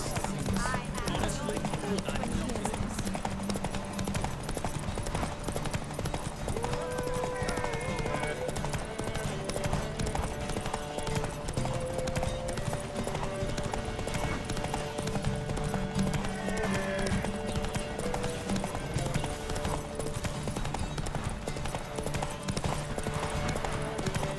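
A horse gallops steadily in The Witcher 3 video game, its rapid clip-clop hoofbeats continuing throughout under music, with voices talking over it.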